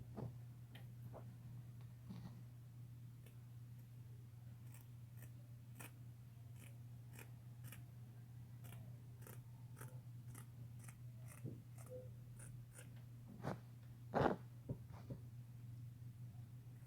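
Scissors cutting glove material along sketched lines, a steady series of crisp snips at a fairly regular pace over a low constant hum, fairly faint and close.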